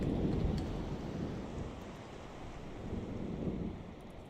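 A thunderstorm in the Minecraft video game, with a steady wash of rain and low rumbling thunder that swells and fades, moderately loud with no voices.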